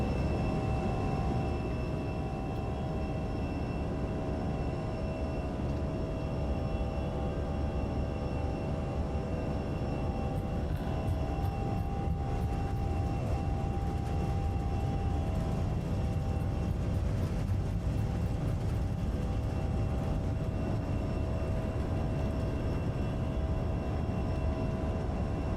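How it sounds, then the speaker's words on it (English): Airliner engines roar steadily at high power during the takeoff roll down the runway, a loud continuous rumble with whining tones and rattling cabin vibration, with no voices over it. "Alrighty, and here we go. Take off."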